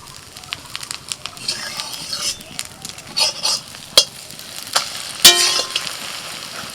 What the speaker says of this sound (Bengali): আগের মতনই যতটা সম্ভব চারি এই ডিমটাকেও ভেজে নিচ্ছি এই একইভাবে